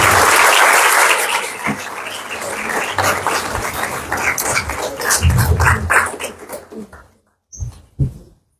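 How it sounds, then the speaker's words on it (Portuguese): A university audience in Santos, Brazil applauds loudly, dense clapping that thins and fades after about seven seconds, followed by a couple of brief isolated sounds near the end. "Uma salva de palmas."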